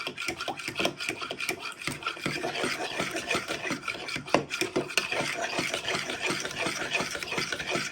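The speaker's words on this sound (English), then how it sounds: "you want to give that another good whisk using a fork" Fork whisking wet pumpkin pie ingredients, including melted butter, in a bowl: a dense, steady scraping and rasping of tines against the bowl, close and continuous with quick irregular clicks throughout.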